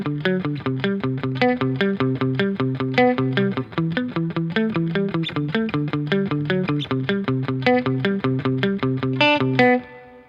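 Electric guitar plays a riff alone, a steady run of plucked notes with an effects-laden, slightly distorted tone, even and close throughout.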